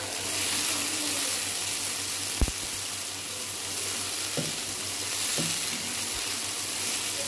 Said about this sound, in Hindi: लहसुन अदरक को हमने इतनी देर भूना कि जब तक इसकी स्मेल खत्म ना हो जाए।